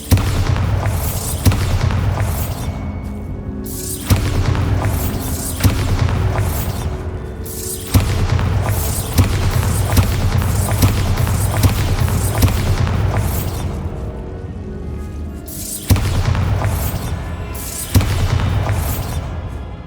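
Heavy, booming Bombarda blasting-spell explosions from Hogwarts Legacy go off in a repeated series, each a loud deep burst with a rumbling tail that runs into the next one.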